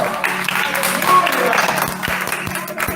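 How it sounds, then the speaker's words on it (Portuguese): Church congregation at a Sunday evening service applauding, a broad wash of clapping from many hands, fairly loud and continuous, mixed with a voice speaking over it. "Aplauda o Senhor."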